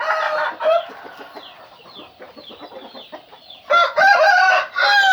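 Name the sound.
rooster crowing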